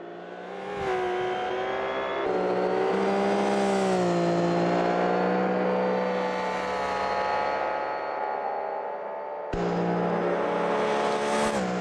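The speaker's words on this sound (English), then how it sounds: "You can hear the cars throughout the racetrack. You gotta love the hills around here, just really bouncing the audio of the engines" Race car engines from a GT World Challenge two-hour event at Spa in a racing video game, droning and revving continuously with harmonic whine, echoing off the surrounding hills, with a sharp cut to a louder engine near the end.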